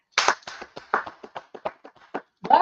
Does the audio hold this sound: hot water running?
no